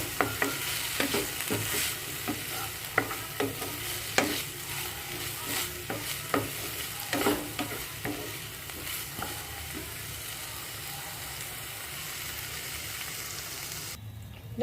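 Chopped tomato and spices frying and being stirred in a pan, with a steady sizzle and repeated scraping strokes of stirring for most of the time, then a quieter sizzle near the end.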